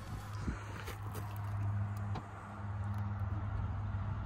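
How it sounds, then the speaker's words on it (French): An electric tow ball hitch on a Citroën (BX or XM) motors out at the press of a button, a steady low mechanical whir running several seconds with a brief pause midway, close and moderately loud. "Et ça vient sortir une petite boule d'attelage, parce que cette voiture est capable de tracter."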